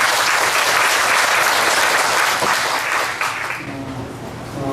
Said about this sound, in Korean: 박수로 한번 가주시죠